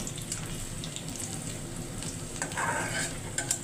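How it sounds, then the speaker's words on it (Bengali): Garlic and onion sizzle in hot oil as a tempering for a bottle gourd curry. The frying hiss runs steady throughout, with scattered stirring scrapes and clinks near the end. "রসুন আর পেঁয়াজ দিয়ে লাউটারে আমি একটু বাগার দিয়ে দিব।"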